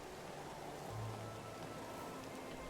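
Steady soft rain falls beside a lake on a windy, nearly wintry day in the video game Medieval Dynasty, a faint, even hiss with no talking.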